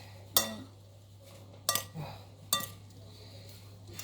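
Tabbouleh salad being mixed in a bowl, with three distinct clinks of a utensil against the dish spaced a second or so apart over a quiet background.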